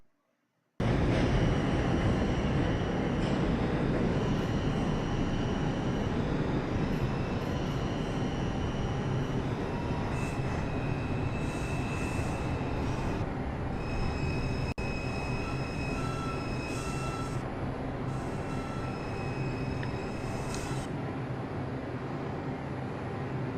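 A Roblox IRT 3 subway train runs continuously, with loud steady rumbling, wheel noise and high squealing tones that shift as it travels, close and sustained throughout.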